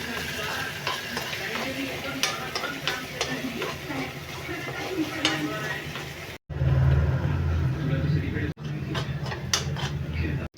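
Dill greens (shepu) are sautéed in a pan, a continuous sizzle broken by frequent stirring scrapes and clinks; about two-thirds in, the sound cuts abruptly to a lower, fuller frying hiss, with faint voices in the background.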